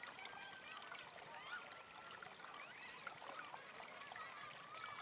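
Mountain river water trickles and flows softly in the Dolomites near Sass Rigais, a faint, continuous babbling with no voices.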